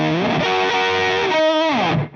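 Electric guitar played through a BOSS DS-2 Turbo Distortion pedal with the tone pushed up, giving a bright, biting distorted sound: sustained notes and bends ring out loud and alone, with no talking.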